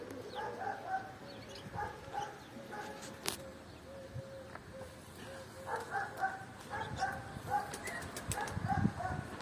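Tumbler pigeons flap their wings in flight, brief clattering bursts over scattered bird calls and soft coos in an outdoor setting, with faint background noise and a distant dog.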